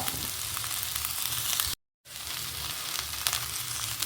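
Mango pieces sautéing in a hot pan on a gas stove give a steady, close sizzle and crackle of frying that cuts out for a brief moment, then carries on, with no one talking.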